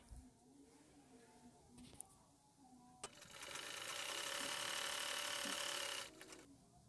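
A sewing machine runs in one steady burst of about three seconds while double-stitching a pant seam up to the knee, with a few faint clicks before and after, quiet and close with no talk.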